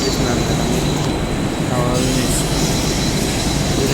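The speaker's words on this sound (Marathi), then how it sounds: "आपण आता बसलेलो आहे ट्रेनमध्ये" A Mumbai local train runs between Thane and Parel with a loud, constant rumble of wheels on rails, a brief squeal of the wheels partway through, all heard from inside the carriage.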